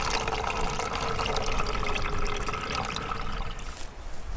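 Water poured through a simple improvised bushcraft filter outdoors, a steady splashing trickle running continuously for several seconds at close range.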